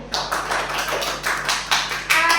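Applause for Molly in a classroom practical exam session, a run of quick, fairly close hand claps with a light tapping quality, steady throughout without speech.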